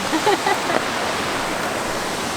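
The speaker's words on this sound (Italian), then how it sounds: "Super rumore di acqua." A mountain stream flows through a valley near Passo Rolle in the Lagorai, giving a loud, steady rushing roar. A brief voice or whistle-like tone sits over it at the start.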